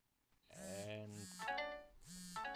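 A phone's ringtone or notification plays as a bright melodic chime, in two tonal bursts with a brief gap between them. It is fairly close and clear, with no talking over it.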